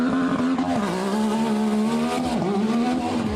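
A Yamaha YXZ 1000cc side-by-side revs hard and takes off at a race event, its engine a loud, close, buzzing howl that rises and dips with gear changes.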